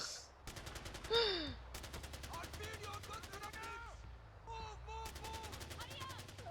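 Rapid bursts of automatic gunfire from the video game Far Cry 4 crackle in repeated volleys, playing under and between excited voices talking over the action.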